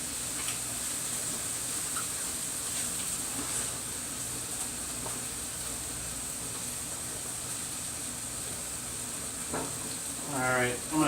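Seasoned ground beef sears in a hot pan with a constant, even sizzle and faint crackle, moderately loud and close, with a brief scrape or clatter near the end.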